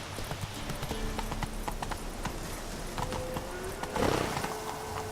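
Horse hooves clip-clop at a steady gallop in The Witcher 3, with a short whinny and a brief louder burst near the end over a constant game ambience.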